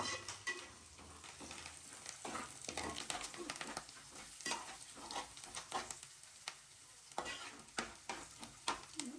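Food fries in a pan while dry upma cooks, with a crackling sizzle and frequent irregular spatula stirs and scrapes that come in clustered bursts, close and moderately quiet.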